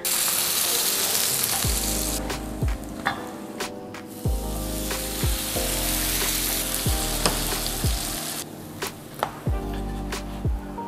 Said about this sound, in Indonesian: Nah, udah selesai dioles seperti ini, kita mau panggang rotinya